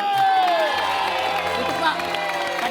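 A party audience applauds and cheers at a birthday celebration, a short burst of clapping and whoops mixed with lively voices and nearby talking.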